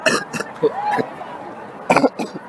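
A short cough from a man at a live sports broadcast, a couple of brief rough bursts near the microphone, with faint voices around them.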